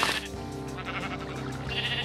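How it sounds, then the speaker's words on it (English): A Minecraft sheep in the Sevtech Ages modpack bleating as it drowns, repeated wavering baa calls over a steady game background with a low musical drone. "Oh, I'm drowning a sheep."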